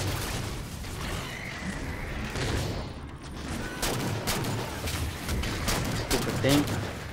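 Halo 4 combat gunfire rattles in scattered bursts against a busy mix of game sounds, moderately loud, with talk intermittently over it.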